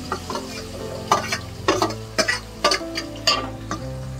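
Chopped onion and green chillies fry in a pan, with a close, low sizzle broken by rhythmic spoon-stirring clinks and scrapes at roughly half-second intervals.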